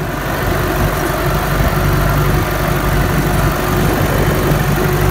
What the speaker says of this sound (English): this tractor sounds a little bit different with this new muffler that I had put on